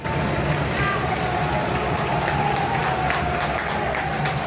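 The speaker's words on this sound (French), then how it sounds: "Et là on entend les applaudissements" Crowd at a club sports match clapping while players warm up, a dense roar of voices and scattered clapping heard from within the stands, loud and continuous with people talking nearby.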